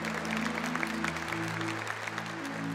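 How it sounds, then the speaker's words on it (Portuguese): Applause rises from a church gathering welcoming a guest at a Catholic men's event, a soft steady patter of many hands heard at a distance beneath a sustained organ-like chord. "Aqui, por favor, uma salva de palmas."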